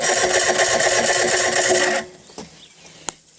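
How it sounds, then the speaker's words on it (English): The starter on a Chrysler 75hp outboard motor cranks with a rapid, rough, laboring whir for about two seconds, then cuts off, leaving a few faint clicks and knocks. "as I'm turning it, you can see it struggled a little bit there on the starter."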